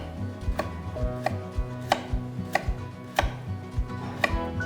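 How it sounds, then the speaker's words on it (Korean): A knife chops radish lengthwise into long, fairly thick strips on a cutting board, giving crisp, close thuds at a steady, unhurried pace of about eight cuts. "이렇게 해서 이제 무는 다 썰었어요"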